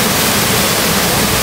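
Shifen Waterfall in Taiwan, running with a low flow of water and heard from an observation point, makes a steady, dense rushing roar with no voices.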